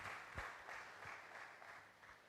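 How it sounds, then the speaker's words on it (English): Audience applause at a university community engagement gathering, a faint, distant patter of many hands clapping that holds steady and slowly thins out, with no speech. "Let's give her a round of applause"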